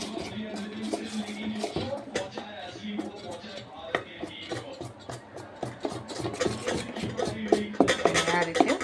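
Ground idada batter stirred by hand in a bowl for Gujarati idada, a steady run of soft scraping and clinking of a spoon against the vessel, close and moderately loud, with faint background noise.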